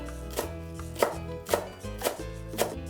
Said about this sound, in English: Chop the garlic close. Mince the cilantro.